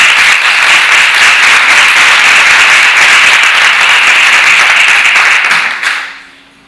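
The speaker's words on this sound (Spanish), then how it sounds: "les pediría un fuerte aplauso también para Mari Ballesta" A conference audience at a medical congress on Ehlers-Danlos syndromes claps loudly and steadily for nearly six seconds, then the applause drops off quickly into near silence.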